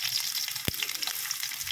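Large onion dropped into hot cooking oil for a home-cooked fish dish, a short sharp sizzle bursting at once over a steady, close background hiss of frying.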